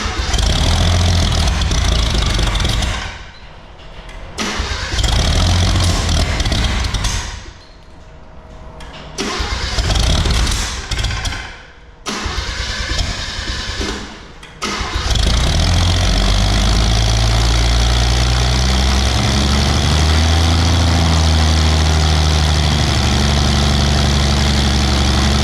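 Nifty 250 straight-six turbo engine cranking and catching with sharp backfires, loud and close, surging and dying several times before settling into a rough, steady idle.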